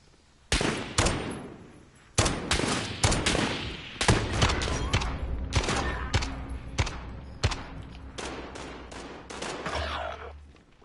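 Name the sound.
gunfire from an enemy's gun in a video game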